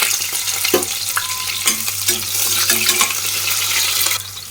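Sliced onion frying in about five to six tablespoons of hot oil for a vegetable pulao, a continuous close sizzle with scraping stir strokes and a few soft utensil clinks.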